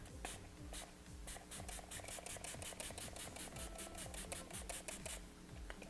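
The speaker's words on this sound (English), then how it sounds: "let's see if it looks even better when I set it with the spray." Item Beauty One Hit Prime, Set & Refresh dewy-finish face mist being sprayed, a rapid run of soft, repeated pump hisses in steady rhythm, close and quiet, with no talking.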